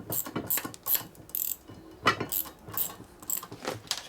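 Ratcheting clicks of a socket wrench on an extension working a fastener on a custom Harley-Davidson twin cam motor, heard up close in short irregular bursts of fine metallic ticking.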